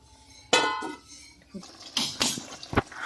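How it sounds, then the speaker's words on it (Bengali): A metal lid clanks onto a pot of chicken curry in a home kitchen, a sharp clatter followed by several lighter knocks and scrapes as it settles, close and fairly loud. "সামান্য পরিমাণ জল দিয়ে দিয়েছি, এবার দিয়ে দিচ্ছি ঢাকা"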